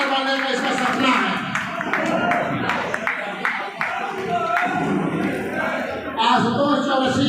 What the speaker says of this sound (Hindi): इस बच्ची के लिए जोरदार तालियों से आप लोग स्वागत करें।